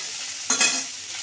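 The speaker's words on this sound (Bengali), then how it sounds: "আর লঙ্কা ফেলে হলুদ লবণ দিয়ে একটু ভাজা ভাজা করে জল দেবো।" Black cumin, crushed ginger, chili, turmeric and salt sizzle in hot oil, a steady hiss swelling briefly as something is stirred or added midway.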